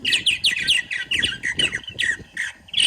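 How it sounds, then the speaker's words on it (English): Rapid gurgling, chirping purple martin calls play through outdoor speakers, repeating in quick bursts, bright and loud, with a slightly electronic, broadcast quality. "the speakers are mounted, operating, loud, doing exactly what I wanted them to do, calling in those purple martins"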